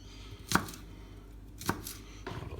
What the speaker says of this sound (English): Chop those up about there, get the harder bits of the spring onion.